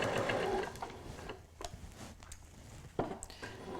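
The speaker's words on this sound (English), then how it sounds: "Stitching all the way round, and I'm using the edge of the presser foot as my guide" A sewing machine stitching around the edge of a fabric table runner, a rapid mechanical whirring run that slows into short bursts of stitching, close and alone.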